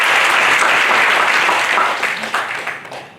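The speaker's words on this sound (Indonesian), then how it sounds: "Ya, kita tepuk tangan untuk Undana." Audience applause at a university event at Universitas Nusa Cendana in Kupang, a dense steady clapping that holds loud through most of the stretch, then thins and tapers toward the end.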